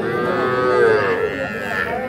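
A young bull calf at a rural cattle market moos loudly and close, one long drawn-out call lasting about two seconds with no talking over it.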